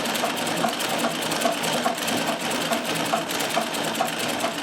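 A Riccar 570 sewing machine runs steadily, stitching stretch fabric with cheap serger thread from a big spool, giving a fast, even mechanical chatter without pause and no talking.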